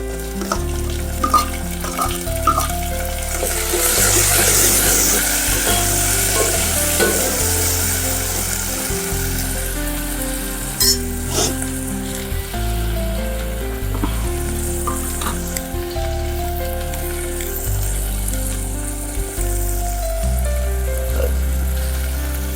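Tomatoes frying in oil with browned onions in a pan for spicy goat mutton curry: a loud, steady, close sizzle with intermittent stirring scrapes throughout, no talking.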